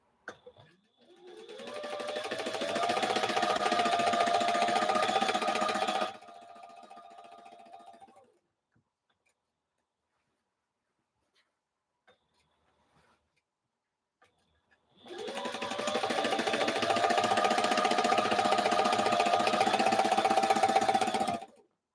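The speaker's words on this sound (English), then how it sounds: "This is a heavy duty sewing machine. It can sew through leather, very thick fabrics." A heavy duty sewing machine stitches curtain panels in two bursts of about six seconds each, its motor whirring with rapid needle ticking, separated by a near-silent pause.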